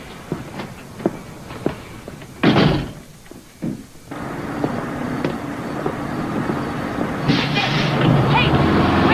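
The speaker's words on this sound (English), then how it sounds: "shut the door." A door in a hall shuts with one loud, close slam, after which a fainter thunk follows. Lighter knocks come before the slam, and a steady background hum continues afterwards.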